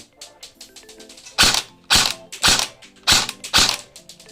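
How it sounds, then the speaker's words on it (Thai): A Double Bell M4A1 electric BB gun with an ABS plastic body fires in semi-auto. Several loud, sharp, close snapping reports ring out at roughly half-second gaps, with quieter mechanical clicks before them, and no voices. "ลองยิงแบบเซมิก่อนนะครับหนึ่งนัด"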